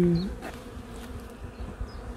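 Honeybees buzz around an orphaned hive, a close, continuous insect hum with individual bees droning past the microphone.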